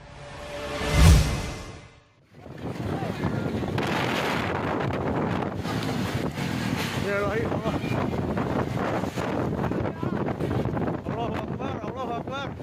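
Strong tornado winds sweep through Lembang in West Bandung, a loud, continuous buffeting roar that hits the microphone hard after a short gusting lead-in and keeps blowing for about ten seconds, with voices faintly mixed in.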